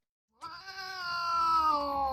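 A cat gives one long, drawn-out meow that starts abruptly after a moment of silence and holds a clear, rising-then-falling tone, loud and close, with no talking.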